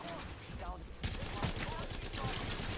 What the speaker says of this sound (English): And I'm getting sniped from that team.